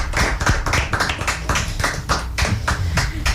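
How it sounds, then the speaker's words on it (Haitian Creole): Lively audience applause fills a morning children's show, dense overlapping hand claps carrying steadily and loud throughout, with no voices over them. "On les applaudit."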